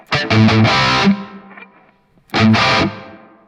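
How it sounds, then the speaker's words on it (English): Distorted electric guitar through an amp simulator plays two loud lead phrases, each trailing off into a lush plate reverb tail that lingers in the gap between them. "So I've just got a little bit of plate reverb here."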